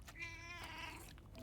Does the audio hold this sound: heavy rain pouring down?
no